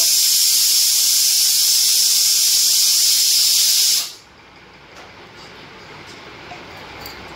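Ghee hitting a hot biryani pot gives a loud, steady sizzling hiss that holds for about four seconds, then cuts off sharply, leaving a quiet low background.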